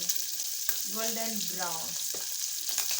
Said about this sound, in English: What I'm doing is frying.